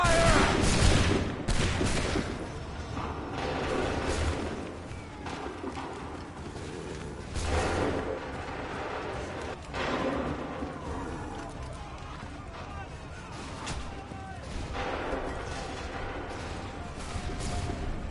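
Ranks of soldiers firing muskets together in Assassin's Creed 3, several ragged volleys crackling at intervals across a noisy battlefield where horses move about, and voices call out over the shooting.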